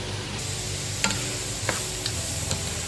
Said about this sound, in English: Stir until the veggies are tender, about 3 to 5 minutes.